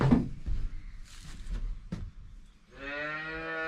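Cattle on a farm during calving season, with scattered thumps and shuffling followed by a single long, loud moo close by.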